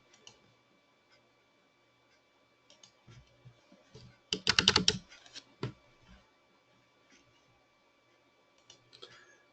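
Keys clatter on a computer keyboard with a French layout in bursts of quick taps, loudest in a dense flurry near the middle, with sparse scattered clicks before and after and no talking.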